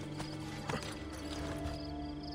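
Horse hooves clip-clop in Assassin's Creed Brotherhood as a guard's horse is ridden, a steady rhythmic trot close by over a bed of game ambience and music.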